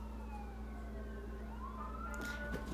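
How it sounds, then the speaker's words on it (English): Wailing emergency sirens rise and fall in the distance over a steady low hum, continuous throughout. "Can you hear the sirens?"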